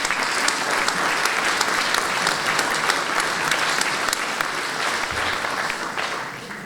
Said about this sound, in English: So while I've got everybody clapping